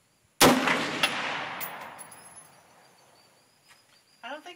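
A single loud AR-15 rifle shot fired outdoors, a sharp crack with a long rolling echo that fades away over several seconds, then a brief voice.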